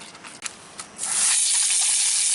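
Super Clean degreaser sprayed onto greasy dirty rags: a few soft hand-pump clicks and faint spurts, then a loud continuous close hiss of spray that holds steady to the end.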